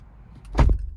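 A Kia K7 Premier LPI car door opens with a single short mechanical clunk and latch release, close and distinct against a quiet interior.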